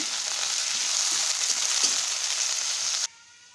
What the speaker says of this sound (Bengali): এখন আমি ভালোভাবে ভেজে নেব।